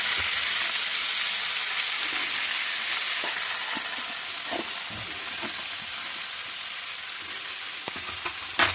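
Tempering spices frying in hot oil in a pan for an amaranth leaf stir-fry, a steady loud sizzle with faint clicks of stirring, close and continuous, no speech.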